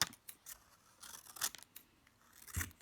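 Scissors snip out small paper aphid shapes for a children's counting activity, a handful of short, crisp cuts at close range spread over a few seconds with quiet pauses between.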